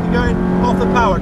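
A Ferrari F430 engine drones steadily on a track with strong rising harmonics, loud and close from inside the car, while a voice talks over it throughout.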